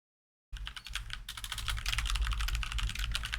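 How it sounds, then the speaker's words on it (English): After a moment of silence, someone types steadily on a computer keyboard close by. Clacks come fast and continuous, building slightly in loudness, with no talking. "Enjoy the soothing sounds of keyboard."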